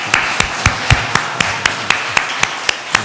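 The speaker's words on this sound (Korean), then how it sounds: "우리 감사합니다 하면서 박수 한번 칩시다" A church congregation claps during a Father's Day service, sharp individual claps at a steady, regular pace for about three seconds, close and fairly loud, with no voices.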